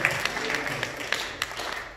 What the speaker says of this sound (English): let's give it one great round of applause